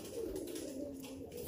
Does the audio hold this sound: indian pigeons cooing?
yes